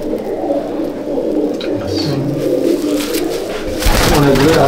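Old-breed Madrasi pigeons coo in a low, steady murmur from several birds, with a burst of rustling or wing noise near the end.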